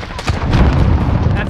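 Modern Warfare Team Deathmatch gunfire on Aniyah Palace, a loud, close burst of rapid shots with booming low end lasting the whole moment, no talking.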